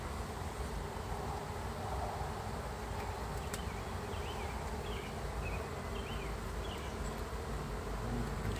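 Bees in a beehive box make a steady, dense buzzing drone, close and continuous throughout, with a few brief higher-pitched buzzes of individual bees flying near.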